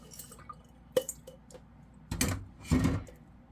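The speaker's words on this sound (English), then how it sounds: "Pour all that liquid out." Liquid poured off soaked lentils through a strainer, heard as a few soft drips followed by two short splashing gushes, close and fairly quiet.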